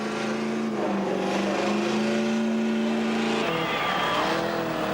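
A car doing a burnout at Summernats, its engine roaring at high revs while the tyres spin and squeal continuously, loud and close, the pitch shifting partway through.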